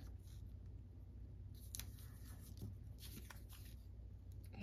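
Quiet snips of scissors cutting a small paper sticker for a Halloween junk journal, a few faint crisp cuts over a low room hum.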